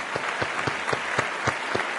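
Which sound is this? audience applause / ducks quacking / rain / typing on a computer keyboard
audience applause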